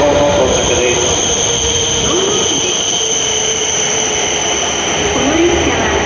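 An E7 series Hokuriku Shinkansen, the Kagayaki 521, pulls into platform 11 at Kanazawa station with a loud steady rumble, a high electrical whine and brief wheel squeals, under a station announcement.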